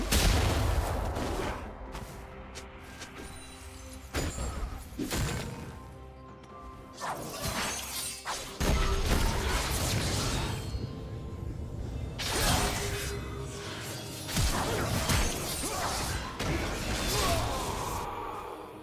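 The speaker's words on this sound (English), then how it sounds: "Red team's turret has been destroyed." Turret destruction in a League of Legends match, a dense run of crashing, crumbling impacts and explosive bursts layered with other game effects, loud and continuous across the whole stretch with no talk.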